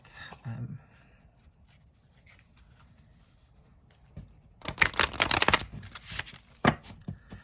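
A brief riffle of tarot cards, slightly heavier than poker weight, being shuffled, crisp flutters and snaps close up, followed by a single sharp card snap amid quiet handling sounds.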